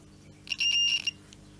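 A multimeter on a continuity test gives a single short high electronic beep, close and clear, while checking a broken Miele S5210 vacuum cleaner's plug for continuity.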